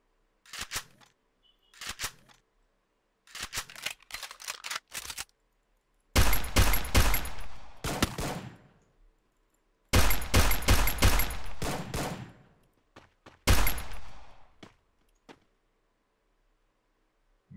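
Automatic gunfire from the Garena Free Fire video game comes in sharp bursts: short rattles at first, then several longer sustained volleys separated by silent gaps.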